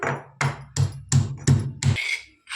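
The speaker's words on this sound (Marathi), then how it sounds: "तीन मिरच्या घेतल्या त्या थोडंसं अद्रक घेतलं आता ह्याला कुटून घेऊया आपण" Green chillies and ginger pounded by hand in a steady rhythm of six heavy, close thuds with a short scrape at the end, and no talking.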